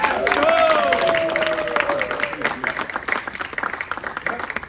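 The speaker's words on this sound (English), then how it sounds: "I want a round of applause for Adam." A crowd at a live show gives a round of applause, clapping loudly at first and then tapering into thinner scattered claps, with voices over it.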